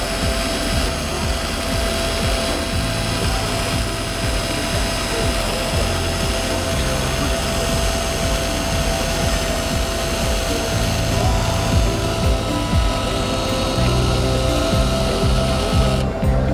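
Continuous abrasive rubbing and grinding from a drill polishing metal, steady and close, with a faint high tone running throughout.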